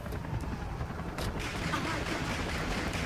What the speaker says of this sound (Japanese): めちゃくちゃ撃ってる